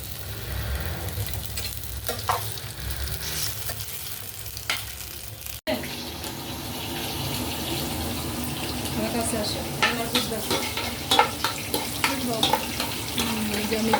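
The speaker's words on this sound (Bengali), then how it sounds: "এই যে সিদ্ধ করা আলুগুলো একটু ভালো করে ভেজে নেব।" Boiled, coloured potatoes frying in a pan for kabsa, with steady sizzling, clinks and stirring scrapes throughout, fairly close, and a brief break partway through.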